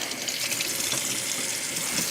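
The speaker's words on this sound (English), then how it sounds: "let's just rinse them a little bit, not too much" Tap water runs steadily into a sink as peppers are rinsed beneath it, a close, even splashing rush with no pauses.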